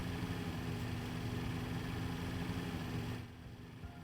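Steam engine pistons in the video game Transport Fever 2: a steady mechanical chugging drone with a low rumble, continuous for about three seconds before dropping to a quieter hum.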